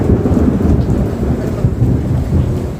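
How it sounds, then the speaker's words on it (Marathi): Heavy monsoon downpour with thunder, a dense roar of rain close by and low rumbling throughout, steady and loud with no voices. "ठिकठिकाणी जोराचा मुसळधार असा पाऊस झालेला आहे"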